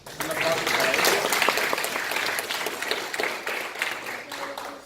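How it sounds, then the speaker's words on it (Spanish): Steady applause from the audience at a student oratory contest in Tijuana, honoring participating schools, dense and sustained for several seconds with some talk mixed in. "Un aplauso para ellos."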